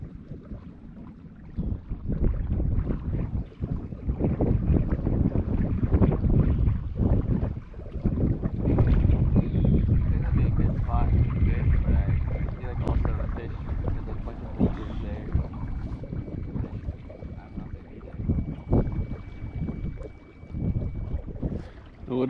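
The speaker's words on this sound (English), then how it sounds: "The wind was blowing a little bit on this end" Wind gusts roar steadily across an open lake around a canoe during bass fishing, a loud continuous buffeting rush with low rumble that swells and eases over the whole stretch, with faint knocks and water movement beneath.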